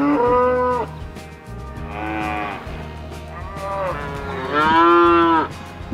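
Cattle on a large ranch moo repeatedly, several long, deep, drawn-out calls one after another, loud and near, with a low engine rumble underneath and no talking.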